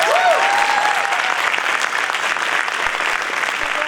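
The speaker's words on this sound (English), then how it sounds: "Can we give another round of applause to these students?" A school winter band concert audience gives the student musicians another round of applause, a loud, full and sustained burst of clapping filling the hall.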